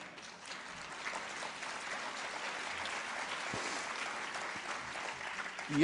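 Steady applause from a large audience at a public debate, dense clapping sustained throughout at moderate distance, with no voices standing out.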